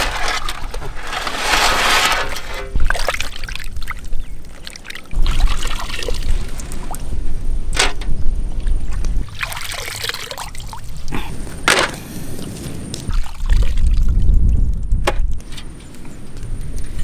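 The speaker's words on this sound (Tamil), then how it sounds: "இனி அழகாக கழுவி எடுத்துட வேண்டியான்." Cleaned sand lobster is washed in water in a village outdoor kitchen. Water splashes and trickles steadily, with crunchy handling of the shells throughout and no talking.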